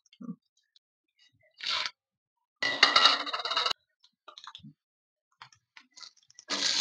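Cumin and mustard seeds hit a hot pan for a rice dish, giving short bursts of crackling and sizzling separated by quiet gaps.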